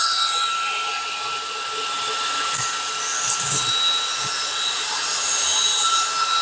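A 22000Pa cordless car vacuum cleaner whines at a high pitch on its powerful mode, steady with small surges as it is moved around the car interior, with no talk.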